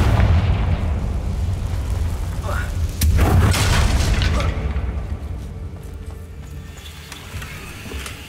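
A booming Confringo blasting spell explosion in Hogwarts Legacy near a damaged bridge, loud rumbling burst with a sharp crack mid-clip, then fading debris and rumble.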